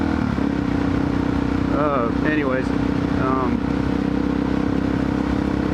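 A motorcycle engine drones steadily at close range while riding, with wind noise, and someone speaks briefly over the rumble.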